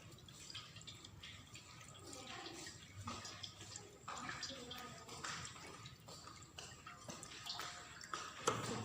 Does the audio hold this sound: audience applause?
no